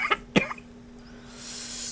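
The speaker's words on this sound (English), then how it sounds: "Do apologize for the coughing" A person gives a short double cough, close and fairly loud, then quiet room hiss follows.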